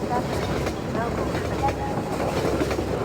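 Train cars roll close past a wall in the video game Half-Life 2, a loud continuous rumbling clatter with faint metallic squeals throughout.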